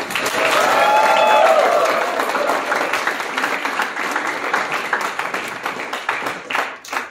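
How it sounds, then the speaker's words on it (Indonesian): Congregation applauding during a Sunday church service at a theology school, a sustained burst of clapping that gradually thins into scattered claps, with a brief voice at the start. "Tepuk tangan lagi."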